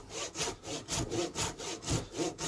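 Hand saw cutting through oak for a hall table, steady back-and-forth strokes in a regular rhythm, close and clear with no talking.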